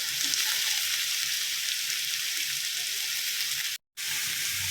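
Finely chopped onion frying in hot oil in a kadhai, a steady close sizzle and hiss that continues evenly, broken by one brief silent gap.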